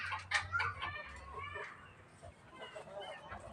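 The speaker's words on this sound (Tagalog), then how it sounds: "Marami po dito mga manok" Chickens cluck and a rooster crows nearby outdoors under an overcast sky, bird calls layered over a low hum and faint background noise.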